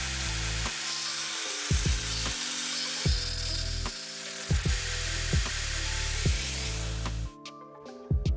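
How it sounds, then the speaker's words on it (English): A hacksaw works through a metal guard piece for a Roman gladius dagger. It rasps in steady back-and-forth strokes, close and loud, with rhythmic pulses across the cut. "use the hacksaw to cut that piece out"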